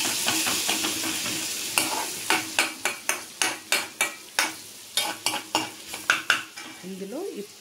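Ginger garlic paste frying and sizzling in a pan on a low flame, stirred with a steady run of sharp spoon scrapes and clinks against the metal, loud and close, with no voices.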